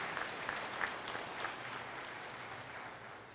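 An audience at a fall college convocation applauds steadily to welcome new faculty and staff, with soft, distant clapping and a few sharper claps standing out early on.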